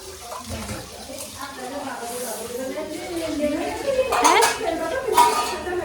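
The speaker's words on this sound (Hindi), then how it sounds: "भांडे बर्तन धो रही है" Dishes, pots and pans are washed by hand, with metal clanking, scraping and clinking over splashing water, all running continuously beneath a person's speech.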